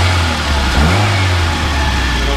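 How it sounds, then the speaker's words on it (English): A 1990 Saab 900 S Coupe engine revs up loudly and close by, its low rumble rising in pitch for a moment before settling back into a steady drone. "Go ahead and rev it from this side too."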